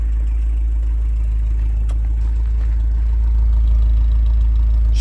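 A 1982 Ford Transit Mk2 with a 2 litre Pinto engine idles steadily, a deep continuous rumble close by with no talk, slightly louder in the last seconds.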